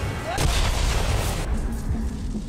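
Gunfire from the video game Bulletstorm: a dense burst of booming, blasting shots in the first second and a half, loud against a continuous game soundscape, then thinner rumbling after.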